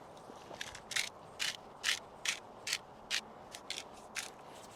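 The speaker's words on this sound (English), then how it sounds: "I use some pink salt, which is one of my favorites. I'm gonna grind it up a little bit." A hand salt grinder cracks pink salt in about a dozen short, crisp, evenly spaced crunches, close and fairly quiet against a faint background hiss.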